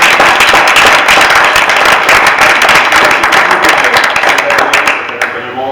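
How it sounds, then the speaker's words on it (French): Applause at a municipal council meeting, many people clapping loudly and steadily for several seconds in an indoor hall before it tapers off at the end. "Je propose qu'on applaudit Noël quand même."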